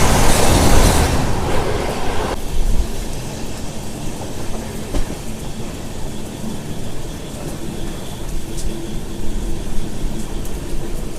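The Secunderabad–Shalimar weekly AC express runs on after leaving Bhubaneswar, a loud rushing burst at the start giving way to a steady, fainter carriage rumble with occasional clicks.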